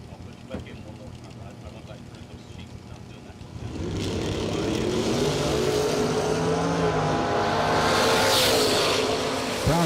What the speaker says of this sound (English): 542 the dial on the Vega. On the right, it'll be John Brown with his Camaro.